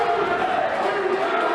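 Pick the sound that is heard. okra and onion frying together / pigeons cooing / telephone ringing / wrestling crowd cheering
wrestling crowd cheering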